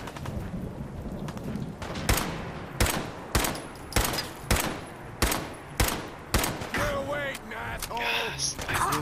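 Enemy gunfire in Fallout 4 rings out as a string of about ten sharp, loud shots at a steady, even pace, followed by clattering mechanical noise and a talking voice near the end.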